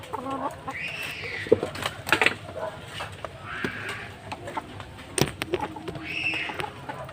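A hen clucks in repeated short bursts near a farmyard, with other fowl sounds and scattered knocks around it, no talk.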